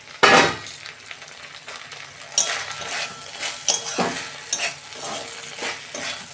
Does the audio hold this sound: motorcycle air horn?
no